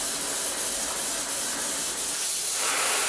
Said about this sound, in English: This is a spray-on chrome,